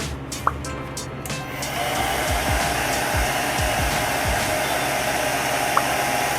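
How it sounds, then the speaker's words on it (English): A hair dryer blows steadily with a constant whooshing hum, close and fairly loud, with a few faint clicks and bumps underneath. "Just using a blow dryer."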